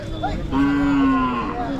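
Hallikar cattle moo at a Sunday cattle market, one long loud low call rising in the middle of the clip over busy outdoor market noise, with a fainter animal call before it.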